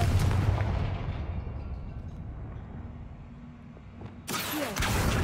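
A Confringo blasting spell in the Hogwarts Legacy video game sets off a deep booming explosion that fades into a low rumble, and a second sharp burst hits near the end.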